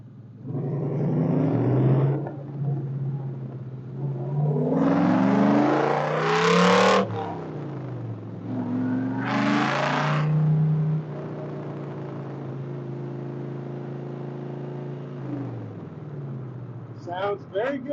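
Factory Five Cobra replica engine revving during a ride around the block, loud throaty bursts rising and falling in pitch with several surges, people talking over it at times.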